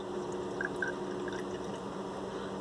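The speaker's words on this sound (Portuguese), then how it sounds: "Vamos colocar agora aqui 30 ml de querosene." A faint trickle of kerosene is poured into a homemade floor cleaner mixture, about 30 ml, giving a quiet liquid splash close by over low background hiss.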